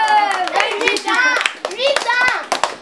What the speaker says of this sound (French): mesdames et messieurs, on l'applaudit.